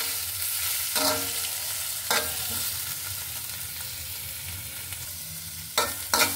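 Spinach being stir-fried with fried onions in a pan, a soft continuous sizzle with sharp scraping spatula strokes around one, two and near six seconds, no talking.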